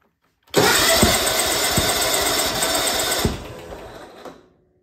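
A riding lawnmower engine cranks and catches with the choke fully on, running loud and buzzing with a few rhythmic knocks for about three seconds before dropping in pitch and fading to silence.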